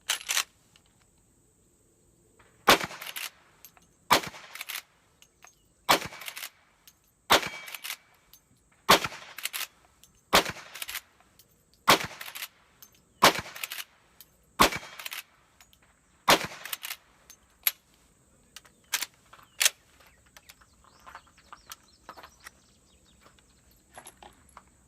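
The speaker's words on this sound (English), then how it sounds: "Let's go ahead and see if we can ring a little bit of the steel downrange with it here." A .357 Magnum Marlin lever-action rifle shooting at steel targets downrange at an outdoor range, a dozen or so sharp spaced shots with faint metallic rings after, then scattered lighter pops toward the end.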